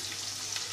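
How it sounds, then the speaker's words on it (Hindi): Chopped onions frying in a pan for kofta biryani, a steady close sizzle with a constant hiss and no voices, brief and even throughout. "अब मैं इसमें शामिल कर रहा हूँ प्याज, इनको मैं ब्राउन कर लूँगा"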